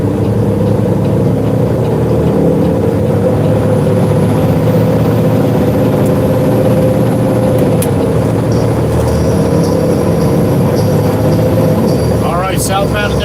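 Loaded truck carrying a full load of fill, heard from the cab as a steady, loud low engine rumble with road noise, unbroken for the whole stretch.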